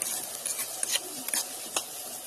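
Chili powder, salt and sugar being stirred into a pan for chili chicken, quiet scraping and scratching strokes with a few sharper clicks of the spoon against the pan, faint and intermittent, no voices.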